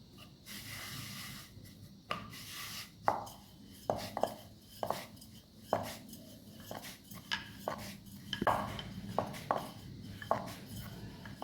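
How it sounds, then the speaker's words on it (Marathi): Dough being rolled out with a rolling pin on a dusted board, heard as a series of soft knocks and scraping thuds in an uneven rhythm, close and fairly quiet, with no talking. "खाली आपल्याला पीठ घ्यायचं आहे सुक्क आणि लाटून घ्यायचं आहे"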